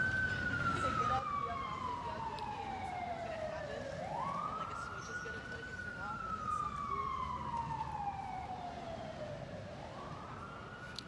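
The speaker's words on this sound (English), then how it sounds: "Excuse the sirens." An emergency siren wails in slow rising and falling sweeps, somewhat distant, over a steady background rumble.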